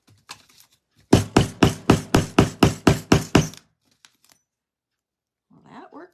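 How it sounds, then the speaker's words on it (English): A rawhide hammer strikes a metal piece on a work table about ten times in a quick, even rhythm, each blow a sharp, close knock, followed by quiet and brief faint sounds. "See, everybody just happens to have a rawhide hammer on their work table"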